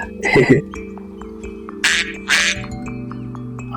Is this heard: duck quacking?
yes